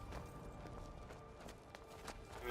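Faint horse hooves clip-clopping at a steady walking pace in the Skyrim video game, quiet under a low background hum.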